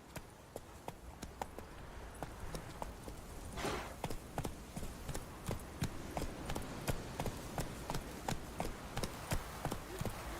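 Hooves of Roach, Geralt's horse in The Witcher 3, clip-clop in a steady galloping rhythm, close and fairly loud, with a brief swell of other game sound partway through.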